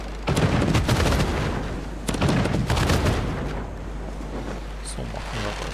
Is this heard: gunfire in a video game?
yes